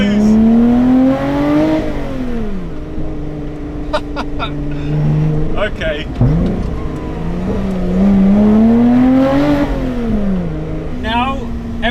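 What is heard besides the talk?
Lotus Exige 380 Cup V6 engine revving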